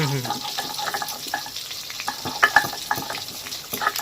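Rohu fish pieces frying in a pan of oil for a Bengali kalia, a steady close crackling sizzle with scattered pops and clinks, and someone talks over it throughout.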